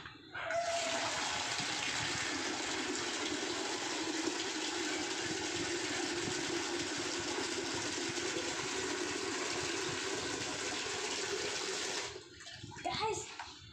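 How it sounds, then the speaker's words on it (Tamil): Water runs steadily from a tap into a bucket for car cleaning, a continuous close rushing stream lasting about twelve seconds before cutting off, followed by brief handling knocks. "பிடிக்க போகிறேன், வாங்க தண்ணி பிடிப்போம்."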